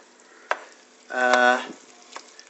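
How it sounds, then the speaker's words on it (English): Boiled meat being stirred into magiritsa soup with sautéed green onion and dill, a short sizzling, scraping stir in the middle of a quiet moment, with a couple of light clicks around it. "We're giving a nice stir"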